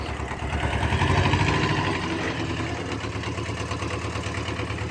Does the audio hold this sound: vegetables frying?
no